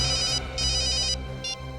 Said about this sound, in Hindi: हाँ मैं दया को फोन करता हूँ।